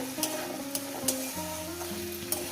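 Spices and greens stir-fried in a pan, a soft continuous sizzle broken by a few light scraping strokes of the spatula at irregular intervals, fairly quiet and close.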